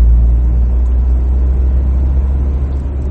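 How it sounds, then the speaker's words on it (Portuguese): A Ford Ka SE entry-level car climbs a hill in third gear, its engine a steady, loud low drone with constant rumble throughout. "a gente vai engatar a terceira marcha, e ver como é que o carro se comporta durante toda a subida"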